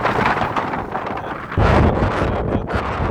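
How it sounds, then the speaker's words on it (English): Strong wind buffets the microphone in loud, gusty rushes, with a sharper gust about halfway through. "it's really windy"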